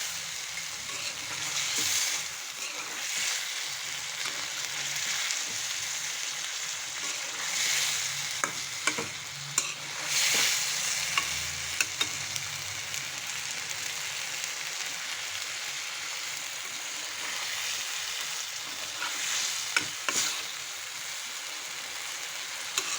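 Chicken pieces fry and are stirred in a pan, a steady close sizzle broken by repeated scraping and clicking utensil strokes.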